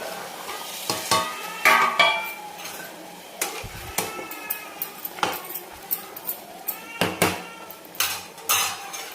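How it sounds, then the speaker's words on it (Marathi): Hot water poured into mutton curry masala and stirred, a string of close metal spoon clinks and scrapes against the pot over a soft sizzle. "यानंतर आपण हे जे गरम करायला पाणी ठेवलं होतं हे टाकून देऊ याच्यामध्ये"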